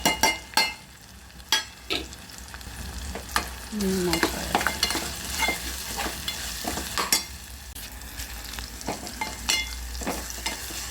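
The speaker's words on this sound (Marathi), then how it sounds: "आता तर फोडणी देते कांदा टाकलेला आहे भाजायला" Onions fry in hot tempering oil with a steady sizzle, punctuated by repeated sharp clinks and scrapes of a spoon stirring the pan.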